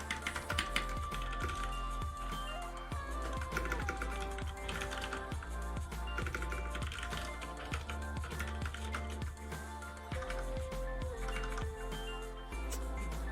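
Fast, continuous typing on a computer keyboard, with dense rapid key clicks and clacks running steadily throughout over a faint background hum.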